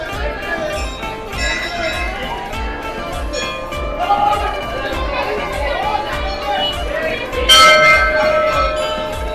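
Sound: temple bell ringing

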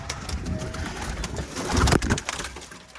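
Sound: pigeons

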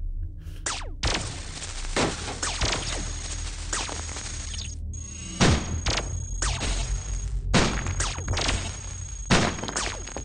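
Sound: weapons firing in the video game Cogmind

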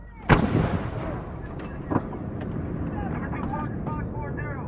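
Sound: mortar or artillery round being fired

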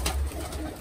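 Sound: pigeon cooing

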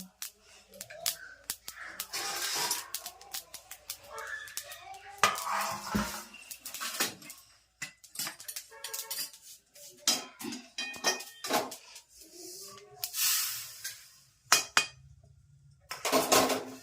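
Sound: black sesame seeds roasting and stirred in a pan

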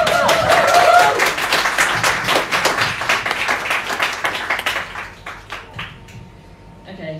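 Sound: audience clapping

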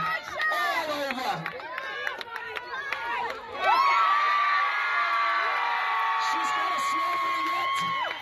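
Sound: audience cheering at a chili eating contest

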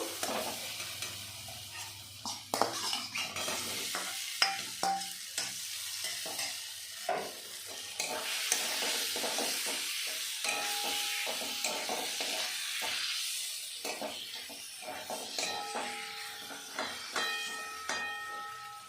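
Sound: fried potatoes being stir-fried in spice paste

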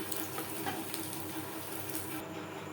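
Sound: coconut frying in mustard oil

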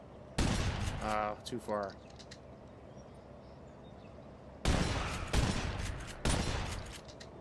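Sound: gunshots shooting birds, from the video game The Saboteur

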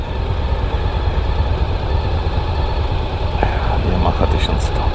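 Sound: Yamaha 1100 motorcycle engine idling

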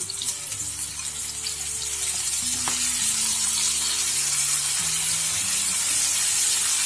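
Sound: tomatoes added to frying pan, sizzling

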